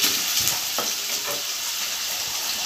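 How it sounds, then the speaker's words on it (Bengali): Onion frying in hot oil in a wok (kadai), part of a mixed small-fish curry: a steady, close sizzle with the scrape and clatter of stirring spread through it, with no talk. "এখানে পেঁয়াজটা দিয়ে একটু ভাজা করছে।"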